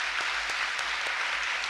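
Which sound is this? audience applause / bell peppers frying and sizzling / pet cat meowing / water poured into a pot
audience applause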